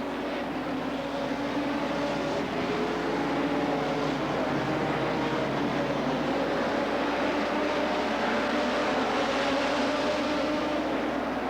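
Stock cars race at the CNE track in September 1990, producing a dense, sustained roar of engines that holds steady throughout with no breaks.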